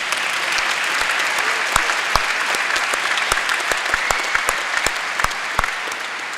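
Sustained applause from a large audience at a university winter graduation ceremony, a thick wash of clapping with sharp individual claps standing out, close and loud throughout.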